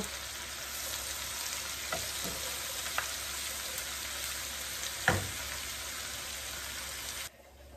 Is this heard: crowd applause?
no